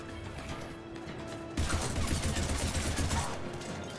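Gunfire in the video game Mass Effect 3 erupts partway through as a sudden loud burst of rapid shots and impacts, following a quieter stretch of game ambience.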